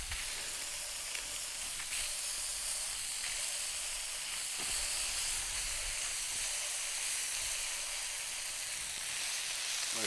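Bacon cheese smash burgers sizzle steadily on a 28-inch Blackstone griddle, a loud, continuous frying hiss with faint scraping clicks and no voices.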